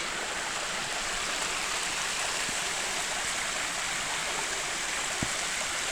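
A stream rushes steadily over rocks near waterfalls at Canyon Lake, making a constant, close, broadband wash of flowing water with no talking.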